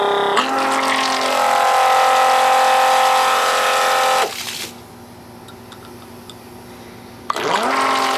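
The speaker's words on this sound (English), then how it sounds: "we have the Milwaukee pump." Milwaukee M18 pump running close by, a steady loud motor whine and churn that cuts out for a few seconds and then starts up again.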